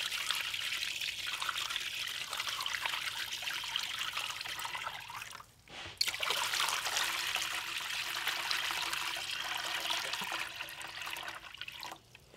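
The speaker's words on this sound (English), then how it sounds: "So I'm gonna go ahead and fill it up with water, and let's see what happens." Water pours steadily into a glass test box, a continuous splashing trickle that briefly pauses midway before resuming and running on, fairly faint and with no voices.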